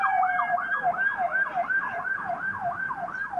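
A wailing emergency siren from police, ambulance and fire vehicles responding to a factory explosion sweeps up and down in steady, rapid cycles, loud and continuous throughout, with faint traffic rumble underneath.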